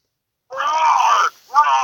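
A voice imitates a dragon roar with a drawn-out growling cry, then a shorter second roar after a brief pause, loud and close.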